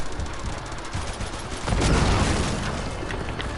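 A tank firing in the video game Uncharted: Drake's Fortune, with rattling gunfire under a heavy booming blast that swells near the middle and lingers as rumbling battle noise.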